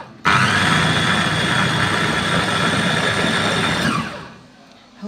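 A blender runs loud and steady for nearly four seconds, pulsing pasta with half a litre of milk, then cuts off before a brief restart at the end.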